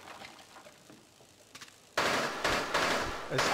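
Burst of gunfire in Rainbow Six Siege, a TDM Bomb match on Hereford Base: quiet game ambience first, then loud close shots starting halfway through with several sharp cracks following in quick succession.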